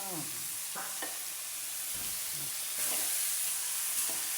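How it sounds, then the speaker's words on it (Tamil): Faint steady sizzle of capsicum, carrot and beans frying in a pan, with occasional scraping and clinking as they are stirred. "இவ்வளவும் போட்டு நல்லா ஃப்ரை பண்ணிடணும்"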